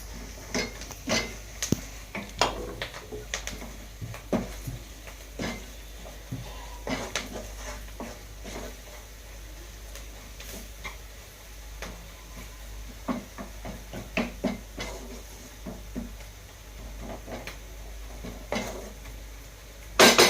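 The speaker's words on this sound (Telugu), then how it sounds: "ఉప్పు కారం వేసుకున్నాక ఇలా కలిపేసుకోవాలి" Salt and chili powder are stirred into an egg curry in a pan, with scattered light clinks and scrapes of a spoon against metal over a soft, steady background hiss.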